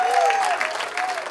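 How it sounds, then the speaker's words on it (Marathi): Loud, dense applause rises from the audience at an amateur musical stage show to honour the lighting crew, with a voice speaking over it. "जोरदार टाळ्या."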